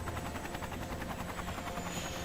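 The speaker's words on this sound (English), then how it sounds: "the next time that we use an Airbridge, we actually get to take control of the helicopter" Steady, loud helicopter rotor and turbine drone in the video game Prototype 2, continuous throughout with a rhythmic blade chop and a high engine whine.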